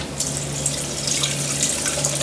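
Water pours in a steady trickling stream into the reservoir of a Braun Multiserve KF9170SI coffee maker, continuous and close with a slight hum underneath.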